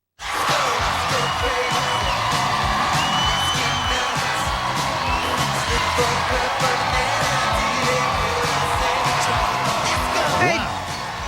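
Large outdoor crowd cheering and whooping at a summer morning concert in New York City, a loud, steady roar with scattered yells sustained throughout.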